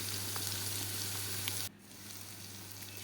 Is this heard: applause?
no